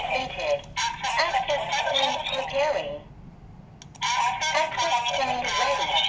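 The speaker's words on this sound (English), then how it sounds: "now you hear the voice prompt, access point ready, access point establishing" A V380 Pro CCTV bulb camera gives a synthetic spoken voice prompt that the access point is ready. It comes in two close, telephone-like bursts separated by a short quiet gap.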